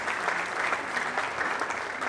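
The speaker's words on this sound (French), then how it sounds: "Est-ce qu'on peut faire des applaudissements pour vous-même," An audience at a gala applauds steadily throughout, a dense, sustained clapping that stays loud and even from start to finish with no voices over it.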